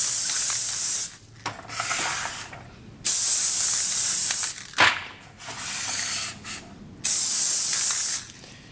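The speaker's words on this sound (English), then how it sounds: "I'm using a Hornady one-shot case lube, and I'm just going to spray" An aerosol can of Hornady One Shot case lube sprays onto brass cartridge casings in several long hissing bursts, separated by short pauses with faint rubbing and handling sounds, close up.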